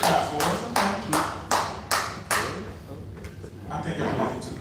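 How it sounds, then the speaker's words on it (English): Scattered clapping from a small audience at a city council meeting in Harvey, a handful of loud separate claps spaced about half a second apart, then thinning into softer, fading applause. "it's okay to clap for us"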